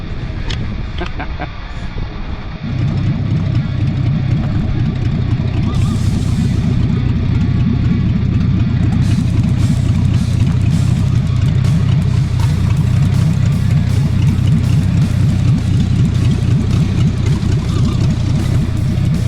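1983 Mercury Capri RS, abandoned for 20 years and missing its exhaust, cranking and then running with a loud, rough, steady rumbling idle close by, a brief unsteady stretch before it settles in.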